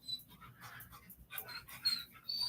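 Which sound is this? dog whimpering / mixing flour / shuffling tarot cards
dog whimpering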